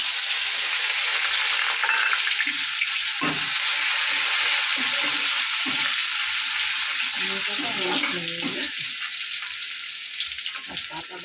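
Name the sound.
chopped onion frying in a pan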